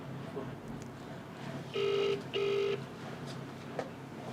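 A telephone sounds two steady electronic tones in a row, each about half a second long, moderately loud over a quiet room murmur.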